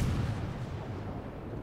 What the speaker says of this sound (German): Aber er hört trotzdem nicht auf zu schießen.